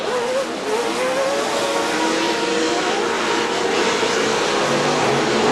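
Pro 4 off-road race trucks at a Chula Vista short-course race, engines roaring loud and continuous with a steady high whine, revving under throttle across the whole stretch.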